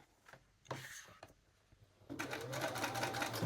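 A sewing machine stitches around the waistband of a pair of jeans, with a few short bursts in the first half before a steady continuous run takes over near the end. It is close and clear, with no talking.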